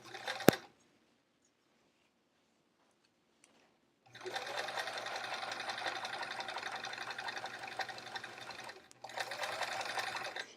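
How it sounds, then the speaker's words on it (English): Sewing machine stitching pencil pockets for a travel art folio: a brief clack, a quiet pause, then a steady mechanical whir running for several seconds, a short break, and another burst of stitching, with no talk. "I'll just sew like right here for a little."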